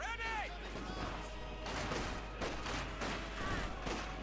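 Rapid gunfire and impacts from a Company of Heroes 2 real-time strategy battle, with bursts of shooting and crashes throughout, mixed under steady commentary talk.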